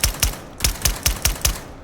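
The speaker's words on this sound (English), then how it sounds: "here is this is just a suppressed Sosa gun pistol." Suppressed pistol shots in the VR shooter game H3VR, seven sharp, muffled reports fired in quick rhythmic succession, each with a short low thump, heard alone.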